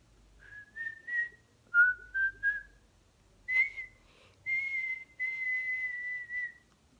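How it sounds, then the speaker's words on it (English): A person whistles a short tune near and clearly, several brief rising notes followed by a few longer sustained tones, with no talking over it. "Can you whistle?"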